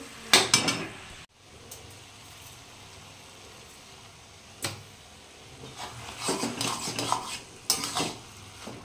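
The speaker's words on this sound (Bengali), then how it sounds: "কপিটা অনেকটাই জল শুকিয়ে এসছে, আর একটু ভালো করে মশলা দিয়ে কষতে হবে।" Cabbage curry with spices being stirred in a pan: a metal spoon scrapes and clinks against the pan in irregular clusters, loud and close, with quieter gaps between bursts of stirring.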